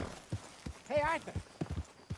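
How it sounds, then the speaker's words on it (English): Horse hooves clip-clopping in Red Dead Redemption 2, a quiet, sparse series of hoof thuds with a brief voice sound in the middle. "get that horse out of here"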